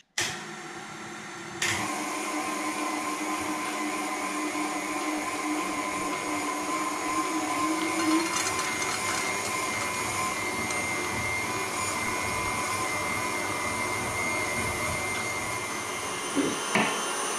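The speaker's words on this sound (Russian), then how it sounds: "Мы это все перебьем через мясорубку" Electric meat grinder grinding soaked red lentils for falafel: a loud, steady motor whine and drone that starts abruptly and runs continuously, with a few clunks near the end.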